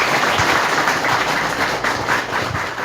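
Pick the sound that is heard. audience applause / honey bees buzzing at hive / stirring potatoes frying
audience applause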